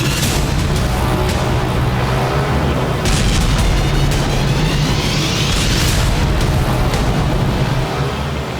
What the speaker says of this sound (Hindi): ज़ेलेंस्की की सेना ने रूस के 12 शहरों में एक साथ जबरदस्त बमबारी